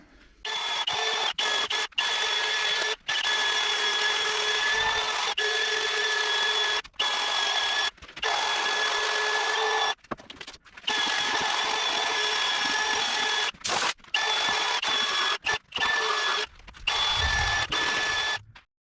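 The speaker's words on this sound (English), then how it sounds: "that wire wheel on the drill, it got some stuff off." A drill with a wire brush wheel whines against a Ford F-150 truck frame in repeated bursts, stopping and restarting several times, loud and close.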